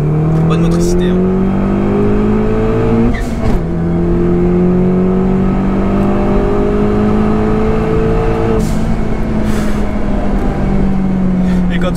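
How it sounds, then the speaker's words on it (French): A stage 3 tuned car engine, prepared with methanol and making nearly 300 hp, revs hard in sustained pulls, and the throttle is released twice with audible snaps and pops as the drone drops and climbs again, loud and close. "Quand tu lâches les gaz, cette dépression, c'est sympa, hein, le bruit."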